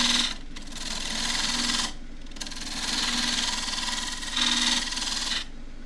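A wood lathe spinning a goblet blank while a parting tool cuts, giving a steady buzzing scrape in long passes with short pauses between cuts, close and without talk.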